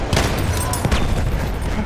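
Enemy machine gun fire in Battlefield 1 rattles amid a dense, loud battle din, with sharp bursts of shots and booms piling up over constant combat noise.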